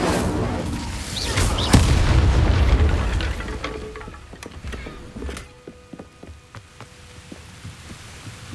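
In Hogwarts Legacy, the Incendio fire spell goes off as a heavy whooshing boom that swells and then fades. Scattered sharp clicks and small impacts follow in the quieter tail.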